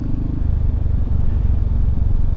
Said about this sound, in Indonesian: mencoba mengendarai Yamaha Xmax 250 kepunyaannya Mas Adam ini